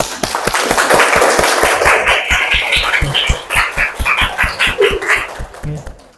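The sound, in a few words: loud audience applause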